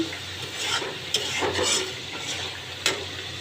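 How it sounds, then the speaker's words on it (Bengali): Whole cloves and black peppercorns being stirred through a spice masala in a frying pan, a steady close sizzle with scraping strokes and a couple of sharp utensil knocks against the pan. "লবঙ্গ দিয়ে দিলাম 2-3টা, গোলমরিচ, এই যে গোলমরিচ দিয়ে দিলাম। দিয়ে মশলাটা আর একটু নেড়ে চেড়ে"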